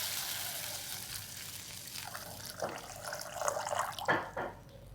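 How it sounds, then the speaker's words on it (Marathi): Water is poured into a cooking pot for a bean curry, beginning as a faint trickle and swelling into louder splashing and gurgling toward the end. "आपल्याला जेवढं लागतंय तेवढं पाणी ओतायचं."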